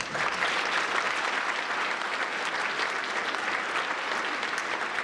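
Sustained, even applause from a large audience at the Kentucky Entrepreneur Hall of Fame ceremony, a steady wash of many hands clapping for several seconds with no talking over it.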